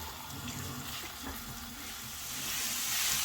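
Chicken cooking in a pan: a steady, fairly loud sizzle and hiss that rises slightly toward the end, with no talking.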